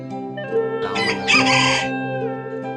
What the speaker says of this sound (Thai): มีเสียงไก่ขัน